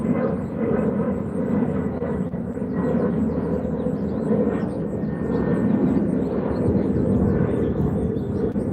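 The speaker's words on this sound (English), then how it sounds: "airplane." An airplane passes overhead above a backyard, a steady broad engine roar in the distance that swells slightly and lingers throughout, with faint outdoor background and no talking.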